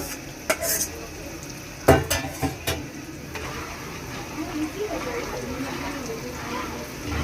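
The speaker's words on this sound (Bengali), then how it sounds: "তারপরে তেঁতুল দিয়ে এভাবে নাড়াচাড়া করতে হবে।" Kochu mukhi dal is stirred after tamarind is added: sharp spoon-on-pot clanks and scraping over a low simmering sizzle, with a voice talking at times.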